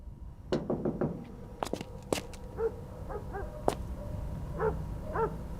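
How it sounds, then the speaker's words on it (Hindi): Knuckles rap on a door at a house, a quick series of sharp knocks early on followed by a few isolated louder taps, fairly close and with no one talking. "हाँ, खटखटाएं।"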